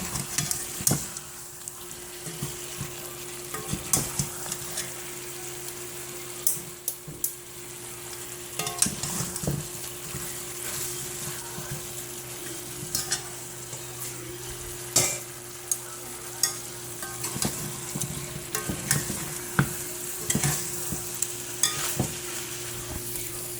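Curry chicken sizzles steadily in a pan as it cooks down in a blended pepper sauce with a little coconut oil, with frequent scrapes and taps of stirring over a constant hum.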